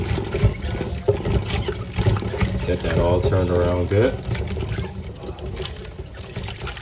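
Cold water pours and trickles into a pot over lobster tails while someone talks over it.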